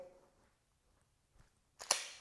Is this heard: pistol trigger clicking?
yes